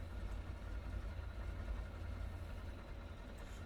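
Engines of a Trimotor airplane idling on the water, a steady low droning rumble heard close and continuous, with no voices.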